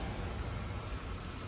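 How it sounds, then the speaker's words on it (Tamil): Steady hiss of continuous rain falling, a dense even wash of noise with no pauses, fairly quiet and alone. "மழை வந்துட்டுங்க, விடாமல் பேஞ்சிட்டே தான் இருக்குது."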